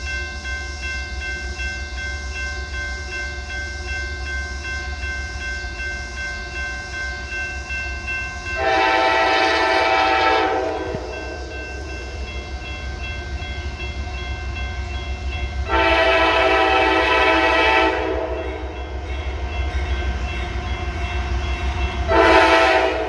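Freight train led by several YN2 locomotives, including a GP38-2 and a Dash 8, passing a crossing slowly, with a low steady rumble underneath and three long horn blasts sounding loud and close.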